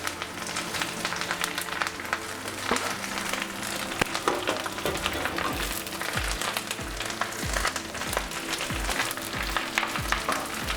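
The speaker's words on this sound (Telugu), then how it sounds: "ఇప్పుడు ముందుగా కడిగేసి తడి ఆరిపోయేంత వరకు ఆరబెట్టుకున్న 1 కప్పు కరివేపాకు ఫ్రై చేసుకుందాం" Washed, dried curry leaves fry in hot oil over a medium flame, giving a steady close crackling sizzle throughout, punctuated by repeated soft scraping thumps of stirring in the pan.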